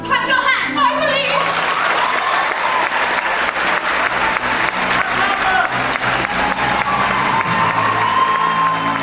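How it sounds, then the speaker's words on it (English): An audience in a theatre performance of Finding Neverland claps loudly and continuously, a dense, sustained wall of applause with some cheering and children's voices mixed in, and a few voices at the very start. "If you believe, clap your hands."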